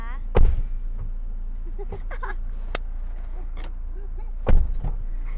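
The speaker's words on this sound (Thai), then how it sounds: "อารบกวนเปิดประตูให้ด้วยนะคะ" A Toyota Fortuner's car door being opened at a parked spot, giving two close, solid clunks about four seconds apart over a quiet background hum.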